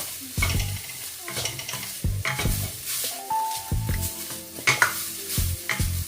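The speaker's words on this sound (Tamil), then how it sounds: "இந்த தேங்காய் பூவும் கொஞ்சம் இந்த நெய்யில் நல்லா பொன்னிறமாக வறுபடட்டுக்கும்" Grated coconut frying in ghee with cashews for a sweet potato cutlet sweet, close scraping stirs in a quick irregular rhythm over a bright steady sizzle, with no talking.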